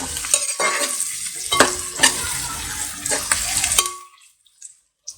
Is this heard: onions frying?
yes